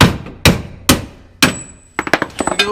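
A hammer knocks drive shaft parts loose beneath a Nissan S14 during a 350Z differential swap, with four sharp, loud, ringing metallic blows spaced apart. A quicker burst of lighter taps follows, close by with no talk.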